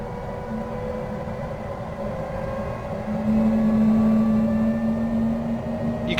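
Fouga CM.170 Magister jet engine in Microsoft Flight Simulator spooling up during startup, a steady rumbling whine with tones slowly rising and the level swelling partway through, alone with no talk.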